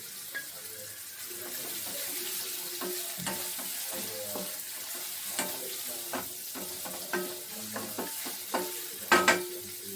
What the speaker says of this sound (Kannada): ಈರುಳ್ಳಿ ಚೆನ್ನಾಗಿ ಫ್ರೈ ಆಯಿತು, ಸುಂಡ್ಕೊತು.